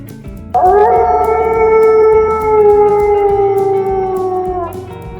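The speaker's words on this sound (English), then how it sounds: "Wolf." A wolf gives one long, sustained howl lasting about four seconds, loud and close, slowly falling in pitch over faint background music.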